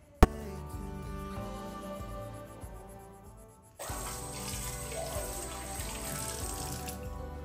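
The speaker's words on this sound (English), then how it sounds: "I am cleaning all the mess, washing all the dirty utensils, and also cleaning the countertop" Running tap water pours into a kitchen sink while dirty utensils are washed. There is a sharp clink at the start, a softer steady stream, then a louder, fuller flow with splashing against the dishes.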